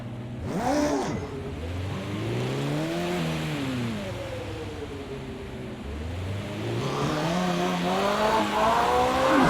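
A race car engine in Project CARS 2 on a wet Nürburgring revs up and down through gear changes, its pitch rising and falling loudly and close, with a brief burst of tire noise early on.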